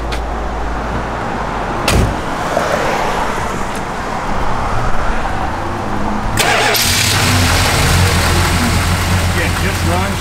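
A 1967 Plymouth GTX convertible's V8 idles with a steady, close rumble, then is revved, the engine note rising and swelling loudly before settling back.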